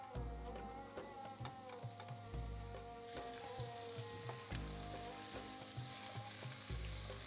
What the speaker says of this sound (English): So I'm going to saute this like 3 minutes.